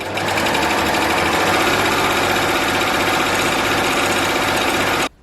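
A baby lock Acclaim overlock machine stitches tulle fabric, a loud rapid mechanical whirring chatter running steadily for about five seconds before stopping abruptly.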